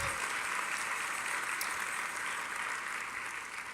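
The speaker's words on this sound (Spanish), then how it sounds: "Dale una ofrenda de palmas al Señor" A church congregation applauding together, a dense steady clatter of clapping hands that fades slightly toward the end.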